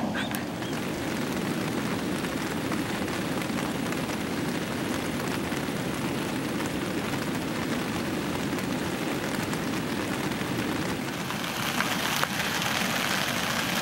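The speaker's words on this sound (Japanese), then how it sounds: "雨がね全然止まない" Steady rain patters on surfaces at a riverside solo campsite during a wet early-summer camping trip, a dense, unbroken hiss that holds level throughout with no voices.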